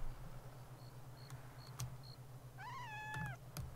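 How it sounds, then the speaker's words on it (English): A single drawn-out cat meow in a sniper video game, fairly faint, rises out of a quiet background scattered with short clicks and soft beeps. "Oh, I heard the cat."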